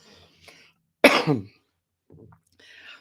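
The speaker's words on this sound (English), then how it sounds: "I'm trying not to have a coughing fit in the middle of this live" A single sharp cough rings out close up, followed by quieter throat-clearing and faint murmured talk around it.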